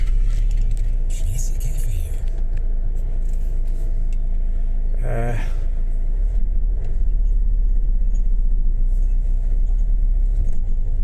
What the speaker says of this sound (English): An Audi is coming.